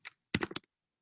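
A quick clatter of computer keyboard typing: one light tap, a short pause, then a rapid cluster of four or five close, crisp keystrokes before silence.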